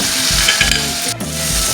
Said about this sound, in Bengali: মশলাটা কিন্তু ভালোভাবে কষিয়ে নিচ্ছি